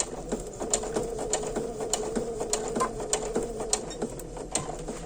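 Sewing machine running a 3 mm stitch along the edge of a tote bag strap, with backstitches at the start; a steady mechanical whir with regular clicking needle beats throughout, close and moderately loud.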